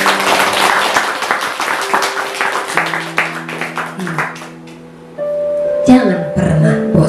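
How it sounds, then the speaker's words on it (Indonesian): Clapping from a church worship crowd in time with music, a run of claps over the first four seconds under voices and a sustained musical tone, then fading as tones and singing take over. "Oke, semua serentak tepuk tangan dulu."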